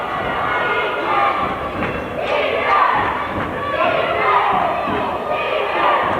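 Crowd at a boys' basketball game rising into a steady, loud roar of cheering and shouting, with a few thuds inside the continuous noise.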